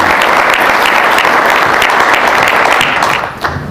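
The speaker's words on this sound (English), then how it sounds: "I think you should give your chamber a round of applause" A chamber of commerce audience applauds steadily at a small business award ceremony, a dense, loud, continuous clapping that fades out near the end.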